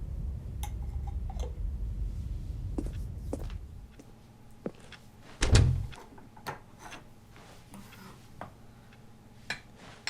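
A door opening and closing in the video game Stanley Paradox, with a low rumbling hum that cuts off, then a sharp thud followed by scattered light ticks and clicks, fairly close.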